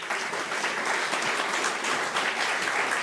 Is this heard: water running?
no